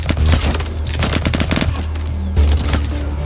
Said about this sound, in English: it's like a little chain gun